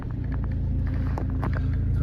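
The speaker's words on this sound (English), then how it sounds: "Start the car up." Mercedes-Benz C220 CDI 2.1 diesel with automatic gearbox idling after starting, a steady low rumbling drone with faint clatter, close by and continuous.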